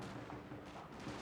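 Continuous gunfire and artillery in a Shogun 2 Total War: Fall of the Samurai online battle, dense and steady throughout, with overlapping shots and booms forming a constant roar.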